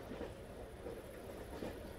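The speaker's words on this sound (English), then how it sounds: "the train's coming." An approaching train in the game Age of Empires 3, set in a rail-era scene: a steady low rumble with faint rhythmic clatter building gently over about two seconds, heard alone without talk.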